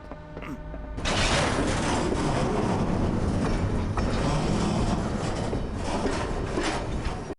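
A train runs on rails in a video game train level, a loud continuous rumble with rhythmic clatter of wheels on track, starting abruptly and holding steady for several seconds with no talk.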